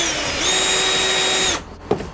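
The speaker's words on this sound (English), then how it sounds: "grab my drill brush and get that area cleaned." A cordless drill fitted with a scrubbing brush whirs steadily as it scrubs a soiled patch of car seat upholstery treated with cleaner, a loud, even motor whine for about a second and a half that then stops, leaving faint clicks.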